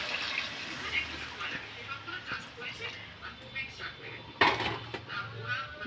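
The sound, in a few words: water being poured into a pot of fish curry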